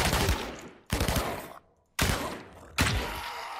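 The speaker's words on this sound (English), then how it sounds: "We want to space out the shots a little bit." Rapid gunfire bursts from the shooter game Shattered Skies, fired at aliens: four loud, dense volleys in quick succession with brief gaps between them, close and punchy, no talking.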